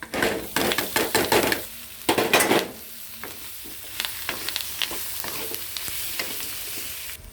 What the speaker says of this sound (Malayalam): കുറച്ച് കറിവേപ്പില കൂടി ഇട്ട് കപ്പേനെ ഇതിലേക്ക് തട്ടുവാണ്